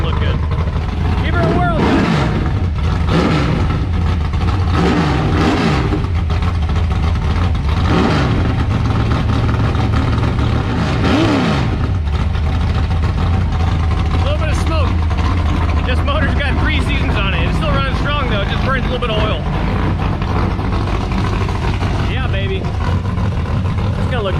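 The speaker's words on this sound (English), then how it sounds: "It sounds like a freaking nitro car with those mufflers on it." A loud race truck engine fitted with racing mufflers roars and revs continuously with rough, throaty exhaust, the pitch climbing and dropping repeatedly as it accelerates.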